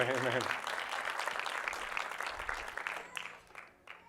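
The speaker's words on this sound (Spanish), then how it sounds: "Un aplauso a Rey" A congregation claps for a speaker during a church sermon. A voice is heard briefly at the start, then scattered applause builds and fades toward the end.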